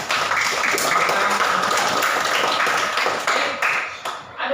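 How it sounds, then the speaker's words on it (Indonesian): Schoolchildren clapping for a student in a classroom during a coding and AI lesson, a brisk burst of many small hands applauding, fading out toward the end. "Ya, tepuk tangan buat saya"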